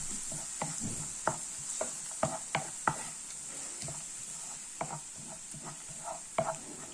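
Spices frying for a pork fry, a steady soft sizzle in the pan broken by sharp, irregular scrapes and clinks as a spoon stirs them.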